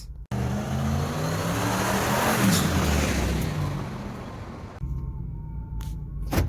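An old work truck, a winter beater, is driven hard, its engine revving up in a sustained rising and falling roar with harmonic whine, then dropping abruptly to a lower idle-like drone with some faint clicks near the end.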